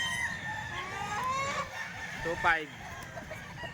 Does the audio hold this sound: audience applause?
no